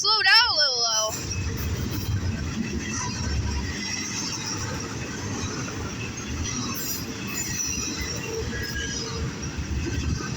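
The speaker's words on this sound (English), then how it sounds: "Probably the fastest train I've ever seen." A fast CSX freight train rushes past close by with a loud, steady roar of rolling wheels and rattling cars. Brief squealing wheel tones sound at the start, and a voice speaks over it.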